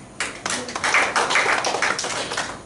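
A church congregation claps together, a dense burst of handclaps that is close and fairly loud. It rises quickly and holds steady for a couple of seconds.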